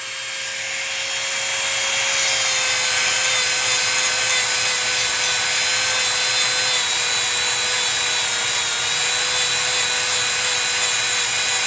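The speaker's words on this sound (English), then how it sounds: "I'm picking up the weight of the Dremel more myself." A Dremel rotary tool sands a composition doll, its high, steady whine with bright harmonic tones running loud and close for the whole stretch after a brief ramp up at the start.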